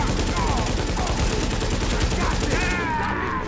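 Shotgun fire in the Tom Clancy's The Division video game mixes with dense bursts of gunfire and explosive blasts during a loud, continuous firefight.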